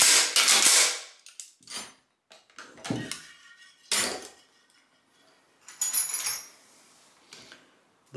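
Metal parts of a Sturmgewehr 57 rifle bolt clicking and clacking during a bolt gap check, with several separate sharp mechanical knocks and rattles spread across a quiet stretch, close and fairly loud.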